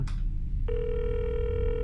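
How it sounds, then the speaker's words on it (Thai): Phone dialing in a Fears to Fathom fan horror game: a short high beep, then a steady electronic ringback tone that sustains to the end over a low droning background. "กด e ซีเพื่อโทรหาเฮนรี่จอห์นสัน"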